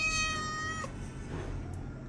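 A pet cat gives a single short, clear meow close by, then falls silent in a quiet room.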